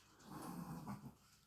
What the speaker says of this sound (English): that's a dog snoring.